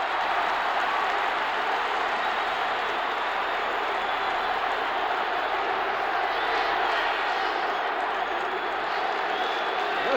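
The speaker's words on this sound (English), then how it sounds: "Listen to this chant of defense erupting now from this partisan Detroit Lion crowd." A partisan Detroit Lions crowd at a 1979 home football game against the Redskins roars steadily, a dense, sustained stadium din where a chant of defense swells within the continuous noise.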